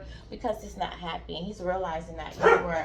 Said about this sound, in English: that's my dog. My dog acting up.